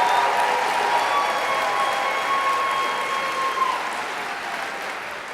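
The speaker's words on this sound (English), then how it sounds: "How about a round of applause for all these wonderful volunteers?" A school district recognition night crowd applauds its volunteers, broad sustained clapping that slowly thins and fades, with faint whistles and cheers mixed in.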